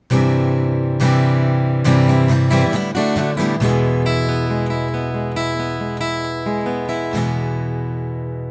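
Acoustic guitar strums several ringing chords, with quick muted strums in between, playing a lively rhythmic intro. Loud, close, and without voices.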